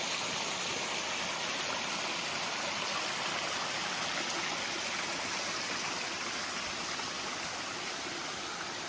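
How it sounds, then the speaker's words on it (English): Small waterfall on a stream beside the Appalachian Trail, a constant, loud, rushing splash of falling water that holds steady without pause or voices. "Amazing little waterfall."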